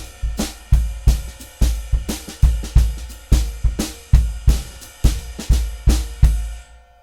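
A drum kit plays a groove in 5/4 time: sharp, resonant hits on cymbals and drums in an irregular repeating pattern, each ringing out briefly. It is loud and close with no talking, and fades at the end.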